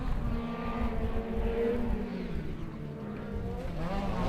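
Race vehicles in a short course main event pass over the start-finish line on the final laps, a continuous loud engine roar that swells and shifts in pitch as they go by.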